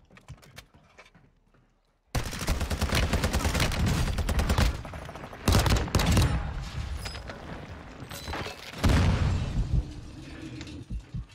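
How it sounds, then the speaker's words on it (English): Sniper and automatic gunfire in Call of Duty Warzone 2, a dense burst of loud shots and booms that starts after a quiet opening and keeps going, with sharp louder cracks toward the end. "there's people sniping to the hill behind me"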